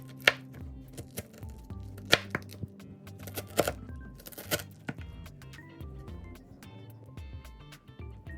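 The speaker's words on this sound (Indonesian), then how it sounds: "Pertama, kita potong dulu nanasnya." A knife chops through two pineapples on a board as jam is prepared for nastar pastries, giving sharp, irregular thuds and cuts at close range, with faint background music or hum.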